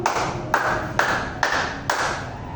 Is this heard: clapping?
yes